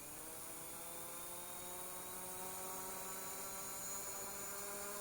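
Hubsan Zino H117S quadcopter drone descends to land near its takeoff point, its rotors giving a steady, high whining buzz with a slowly shifting pitch, fairly close and continuous with no talk.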